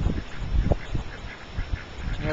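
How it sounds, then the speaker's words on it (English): Several ducks quack and honk in short, loud bursts close by, overlapping with a few soft low calls. "We have ducks over here."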